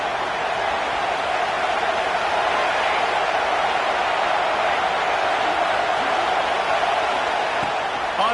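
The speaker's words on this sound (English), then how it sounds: "Listen to this crowd just shaking the girders of this place," Football stadium crowd roaring loudly to support the defense, a continuous dense wash of noise filling the whole stretch without letting up.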